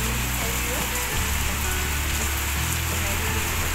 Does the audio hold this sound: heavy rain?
yes